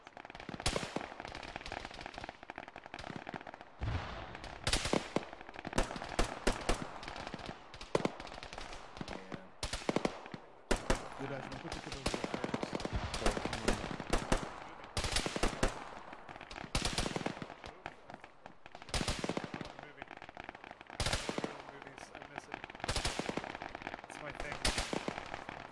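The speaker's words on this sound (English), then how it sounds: "They keep shooting at me." Gunfire in the military video game Arma, set around a radar site with bunkers and barracks: repeated sharp bursts and cracks, loud and close, spread unevenly through the stretch, with a voice talking in between.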